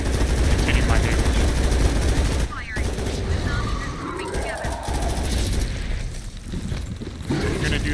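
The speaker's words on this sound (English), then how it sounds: "Alright, now I switched to my light machine gun." Sustained automatic fire from a light machine gun in the shooter game Undawn, a dense continuous rattle with a brief pause around a reload, loud and close against game background noise.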